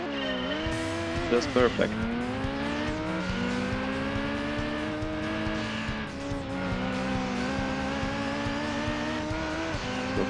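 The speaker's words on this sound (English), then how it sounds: "Now I am racing with Ford Focus Rally car." Engine of a roughly 400 PS Ford Focus rally car racing in Gran Turismo 2 on a Smokey Mountain/Green Forest rally stage, a loud, steady high-revving drone with gear shifts and brief tire squeal, under a short spoken remark.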